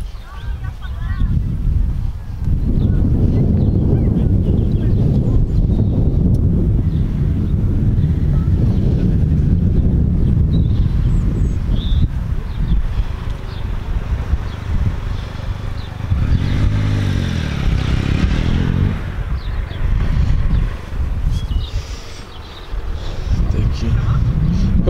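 A BMW R nineT motorcycle ride, the engine's low rumble droning loudly under heavy wind buffeting, with rising and falling revs and a brief dip near the end.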